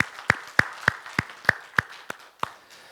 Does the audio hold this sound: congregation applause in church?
yes